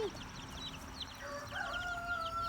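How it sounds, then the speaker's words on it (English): Silkie chickens and a Silkie rooster in a front yard on a farm, giving soft, quiet clucks and chirps against a steady low background hum. "I brought out my little silky chicks today."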